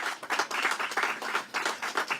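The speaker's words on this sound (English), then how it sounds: "our staff members, a round of applause" Clapping from a crowd at an outdoor business ribbon-cutting ceremony in West Charlotte, a brisk, close round of many hands with rhythmic bursts that swell and dip over a couple of seconds.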